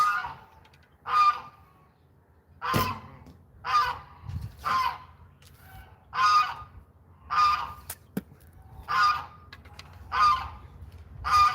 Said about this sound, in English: And that's not even that many geese. It's just a dozen of them over there.